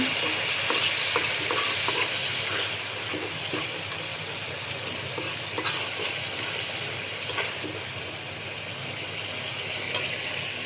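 Silver carp curry with sponge gourd and potatoes is stirred in a pan after a little water goes in, giving close, continuous sizzling with repeated scraping strokes of a spatula and occasional clinks.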